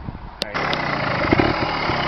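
A motorbike engine revs up loudly and steadily near a beginner rider on a small hill, a sharp rise at the start settling into a sustained roar.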